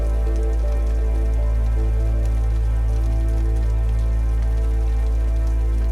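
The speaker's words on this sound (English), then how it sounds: "we're back into the rain sounds again, just for a bit more atmosphere." Steady rain effect used for atmosphere in a track, a dense continuous patter of drops on a surface, loud and unbroken throughout with no voices.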